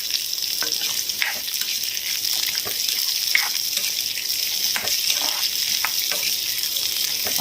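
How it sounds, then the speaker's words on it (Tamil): Onions fry in oil in a kadai with a loud, constant sizzle, and stirring scrapes and taps come through at irregular intervals, close up and without talk. "இப்போ நான் கடாயில் எண்ணெய் ஊற்றிட்டேன் எண்ணெய் ஊற்றிட்டு இப்போ நான் வெங்காயம் போடுறேன்"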